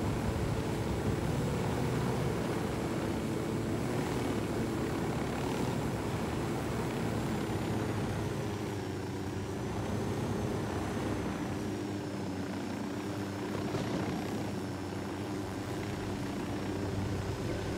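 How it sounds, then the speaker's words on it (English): A surveillance drone in the Ghost Recon Wildlands video game hums steadily with a droning propeller whine, a constant loud engine tone filling the whole stretch without pauses. "Drone is airborne."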